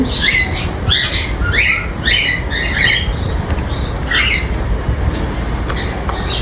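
Pet cockatiels squawk and chirp in quick, repeated bursts over a steady background rumble, close and fairly loud.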